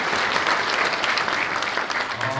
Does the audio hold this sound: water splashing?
no